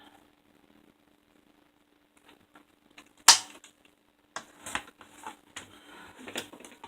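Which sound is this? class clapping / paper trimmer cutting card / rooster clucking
paper trimmer cutting card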